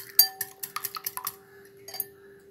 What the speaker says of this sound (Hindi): हम इन सारी चीज़ों को कर लेंगे विस्क अच्छे से